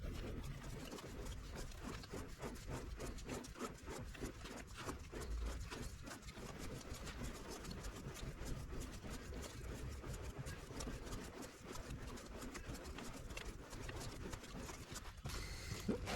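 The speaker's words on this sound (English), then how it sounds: "we should be able to spin the chuck over by hand" A JFMT 530 x 2000 lathe's chuck is turned over by hand, driving its gears and oil pump. Faint, continuous ratcheting and gear clatter runs with a steady ticking rhythm throughout.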